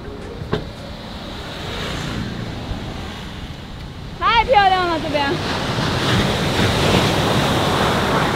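Sea waves wash onto Bentota beach in Sri Lanka, a steady roar of surf with wind buffeting the microphone and a louder surge of breaking water midway.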